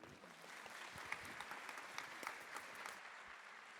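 An audience claps warmly at a French science-fiction festival author meeting, a steady, fairly faint patter of many hands that holds for a few seconds without voices.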